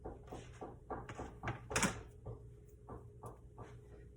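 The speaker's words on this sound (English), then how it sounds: "He's already knocking." A toddler knocks on a door somewhere in a home, a string of light, irregular raps of modest loudness, one sharper thump in the middle, with no talking.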